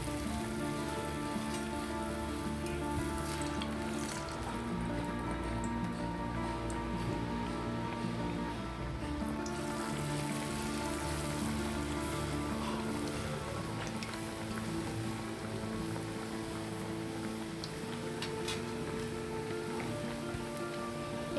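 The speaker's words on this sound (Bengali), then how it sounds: "এভাবে আমি পিঠাগুলো এখন ডুবো তেলে ভেজে নিব।" Nakshi pitha, a patterned rice cake, deep-fries in hot soybean oil with a steady, soft sizzle and bubbling that holds evenly throughout, close and unbroken, with no talking.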